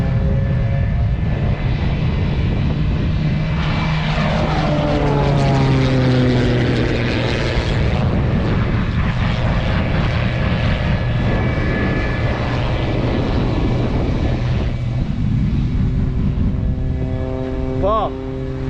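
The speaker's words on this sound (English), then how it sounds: "Looks like we may have a little race between a plane and a jet truck." Stunt plane's propeller engine droning and shifting pitch at an airshow, loud and steady throughout, with an announcer speaking over it and a brief rising tone near the end.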